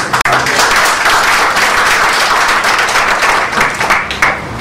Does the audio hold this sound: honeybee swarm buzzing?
no